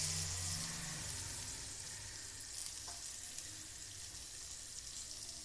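Onion, curry leaves and dried red chillies fry in oil, a soft, steady sizzle that drops slightly after a brief louder start, with a few faint stirring clicks and no talk.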